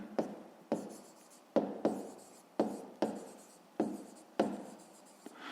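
Pen writing in a notebook during a fifth-grade maths exercise: repeated scratchy strokes in short bursts, each starting with a sharp tap on the paper and trailing off, close and quiet, with no talking.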